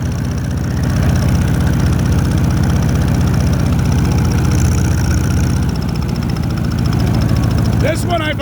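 An old Allis tractor engine runs at a steady idle, a loud, continuous low rumble with a regular chugging pulse that holds throughout and eases slightly near the end.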